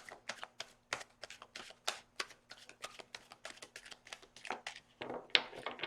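Tarot cards are shuffled in quick, crisp riffles, a rapid run of papery flicks repeating close up with no talking.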